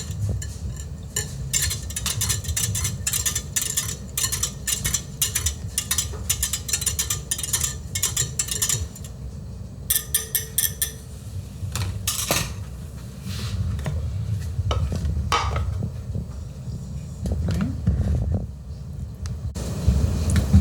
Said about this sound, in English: I'm gonna put my starter in. Gently stir it.